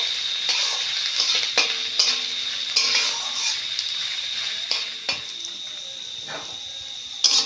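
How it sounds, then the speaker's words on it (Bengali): Onion fries in a hot pan with a steady sizzle, broken by repeated scraping and clinking as a utensil stirs it against the metal; no one speaks. "পেঁয়াজটা একটু লাল লাল করে ভালো করে ভেজে নেবো"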